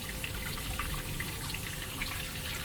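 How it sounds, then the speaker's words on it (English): A bait well aerator pumps seawater into the well, making a steady, close rushing and trickling of water with no voices. "you press the bait valve aerator, and you will see the water coming in to keep your bait valve alive"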